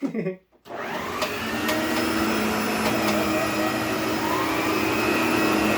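An Electrolux Epic vacuum cleaner, after a brief pause, starts up and runs with a loud, steady, close whine, a sustained motor roar with a high tonal hum that holds evenly to the end.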